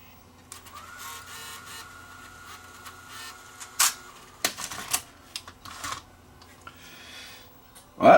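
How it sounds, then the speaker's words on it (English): A Sony EVC3 8mm VCR works its mechanism as it loads and ejects a tape, giving a run of sharp clicks and clunks that grows busier toward the end, over a steady low motor hum. "at least it loaded and ejected the tape"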